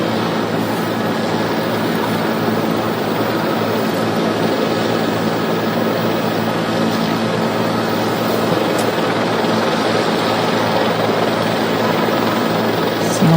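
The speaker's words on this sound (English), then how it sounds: "here it comes in now, this JetBlue flight 292 with that front nose gear pointed sideways" JetBlue flight 292, an Airbus-type airliner making an emergency landing with its nose gear turned sideways, rumbles as a steady, loud jet and engine roar that holds constant throughout with no break.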